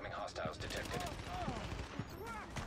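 Gunfire from The Division, an online shooter game, crackles steadily through the short stretch with dense repeated shots, while a voice talks over the top.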